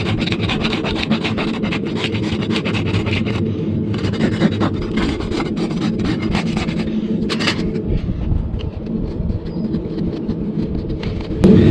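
A farrier rasps a mule's trimmed hoof, a loud, steady, close scraping drawn in repeated strokes that carries on without pause and never lets up.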